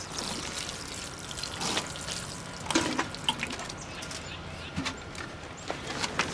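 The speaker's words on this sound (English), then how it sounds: "So we're going to give them a good water." Water trickles and splashes softly onto seedlings in irregular pours and drips at close range, fairly quiet overall.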